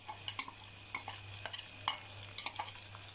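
Ground masala stirred in a karahi for mutton karahi: a spoon scrapes and clacks against the metal in irregular strokes over a faint low hum, fairly quiet and close, with no talking.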